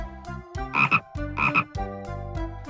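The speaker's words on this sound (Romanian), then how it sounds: "Broasca face wak wak." A frog croaks in a repeated, rhythmic series of loud, close calls, set within a lively children's song.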